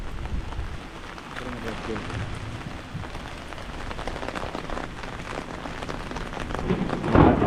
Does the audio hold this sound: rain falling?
yes